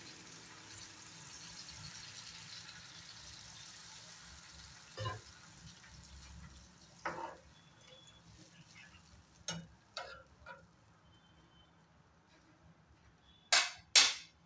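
Fish cooking in a pan with green chillies and a little water added, giving a soft, steady low sizzle close by, broken by a few scattered clicks and taps of a utensil that grow more frequent toward the end.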